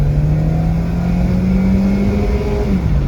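A 2008 Toyota Corolla LE with 300,000 miles revs its engine, a loud steady drone whose pitch climbs, holds, then drops near the end, close and without talk.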